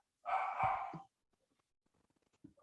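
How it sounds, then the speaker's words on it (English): Dogs bark indoors in one close, loud burst of two or three barks, then quiet with faint, scattered sounds afterward. "my dogs be barking"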